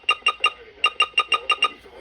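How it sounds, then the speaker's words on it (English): A First Alert SIMA WX-67 weather radio sounds its invalid-entry beep, a loud, harsh electronic tone repeated in quick rhythmic pulses, about ten beeps in two seconds, close up with no talking. "that is a horrible invalid beep"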